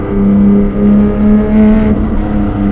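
A Porsche 718 GTS 4.0 engine pulls hard while driving, a steady loud droning note rising slightly in pitch as it accelerates, heard from close by with no talk.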